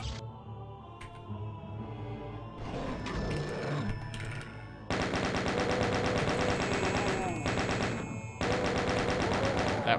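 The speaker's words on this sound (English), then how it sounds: "That was the chain gunners in the two cages." Chaingunner enemies firing in the Doom game, with dense, rapid machine-gun bursts running for several seconds, loud and continuous, after a quieter stretch of game sounds.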